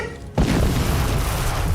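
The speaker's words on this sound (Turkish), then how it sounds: "Patlama sesi geldi. Patladı, tankı patlattı herhalde." A tank explodes in the Minecraft video game with a sudden loud boom, followed by a sustained roaring rumble that continues steadily to the end.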